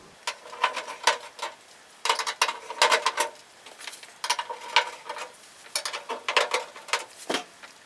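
Screws being removed from the metal back panel of a washing machine: repeated close clicks, ticks and light metallic rattles in uneven bursts, fairly loud with no talking.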